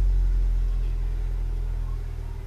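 A modified Honda Civic Si engine revs hard into VTEC, a loud, close, continuous deep rumble with a gritty drone that holds steady and eases slightly toward the end.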